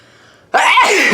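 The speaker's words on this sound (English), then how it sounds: "keep your eyes open while trying to sneeze" A single loud, close sneeze bursts out after a brief quiet breath, sharp at the start and trailing off into a breathy exhale, from a person trying to sneeze with eyes open.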